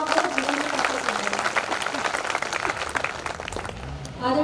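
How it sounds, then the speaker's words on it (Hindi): An audience at a Hindi poetry gathering (kavi sammelan) claps together in a dense, steady burst of applause lasting several seconds, with some voices mixed in before it tapers off. "एक बार मैं चाहती हूँ आप अपने लिए आगे से पीछे तक के लोग तालियां बजाइए।"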